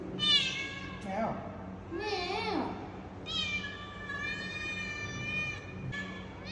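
A mixed-breed cat meowing repeatedly at close range in drawn-out, wavering calls, with people talking around it.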